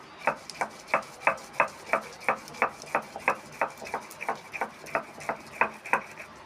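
Sesame seeds being ground into a paste on a grinding stone, a steady run of about two dozen evenly spaced scraping strokes, close and clear, with no talk.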